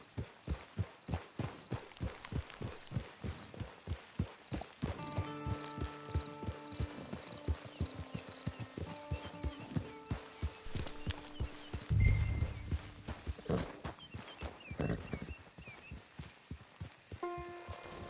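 Rhythmic clip-clop of horse hooves in the video game Red Dead Redemption 2 Online, steady and fairly close, with a soft musical score playing underneath.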